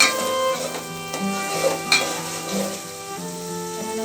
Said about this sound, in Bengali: তেল গরম করে আমি পেঁয়াজটা ভাজার জন্য ছেড়ে দিয়েছি।